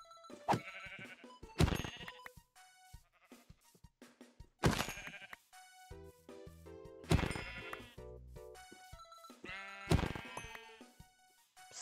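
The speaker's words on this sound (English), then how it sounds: "So many sheep!" Several sheep bleat in turn in Minecraft, loud wavering cries spaced a couple of seconds apart, with quieter bleats in between.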